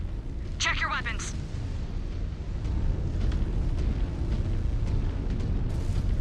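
Artillery explosions in the MechWarrior 5: Clans video game come as a continuous heavy rumbling boom with dense low-end roar, with chirpy electronic sounds early on and a voice speaking.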